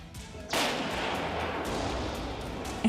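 An Indian laser-guided anti-tank missile fires from an MBT Arjun tank on a test range, a sudden loud blast followed by a sustained, steady roar of rocket noise that carries on without a break.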